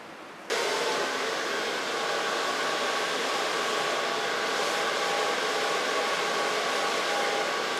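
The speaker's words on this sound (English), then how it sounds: "I'm gonna blow dry it with a brush." A hair dryer switches on abruptly and then blows steadily at full power as hair is blow-dried with a brush during a pixie cut, giving a loud, continuous whooshing hum.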